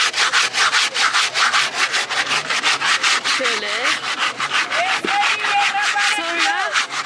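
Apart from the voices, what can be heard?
sanding a gourd at an African market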